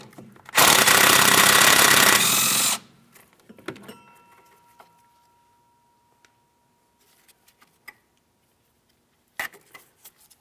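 A power tool zips out a 10mm mounting bolt on a 2007-2014 Ford Edge rear upper control arm: one loud, steady two-second burst, then quiet clicks and small metallic taps, with a brief second buzz near the end.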